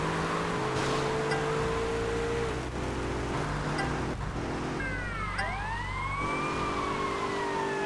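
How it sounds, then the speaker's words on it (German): A police siren wails in rising and falling sweeps over the steady drone of a Grand Theft Auto game engine on PSP, loud and continuous throughout. "Ich hasse die Sirene."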